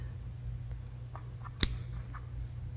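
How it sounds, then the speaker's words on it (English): Wire cutters clip the extra macramé cords close to the finished piece, giving one sharp, near snap amid quiet background hum, with a couple of faint handling sounds around it. "Make sure it's on there and cut the extra cords."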